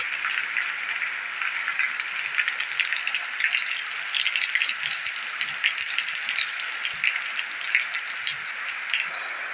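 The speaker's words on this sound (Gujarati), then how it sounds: "અંદરાધારનો વરસી રહ્યો છે જોઈ શકો છો તમે" Steady heavy rain patters densely in a Gujarat village, with scattered sharper drops tapping a surface throughout; no voices.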